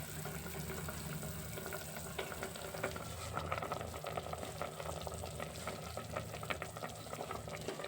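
Sirraku greens sizzle and fry in a pan while mango curry (pullagura) is being cooked, a steady close crackle with faint stirring and no talk.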